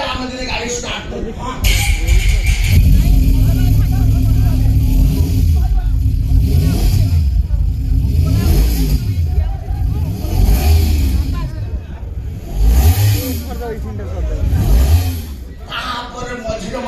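A voice mimics a vehicle engine starting and revving, with rising and falling vocal roars held for long stretches at close range, loud against the general noise of a live comedy stage.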